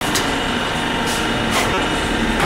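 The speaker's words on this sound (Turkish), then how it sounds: "Hava honlaması yapılıyor." Cylinder honing machine working a Clio 172 engine block, enlarging the bores from 82.7 to 83 mm with air honing; a loud, steady broadband machining whir with faint hissing bursts, continuous throughout.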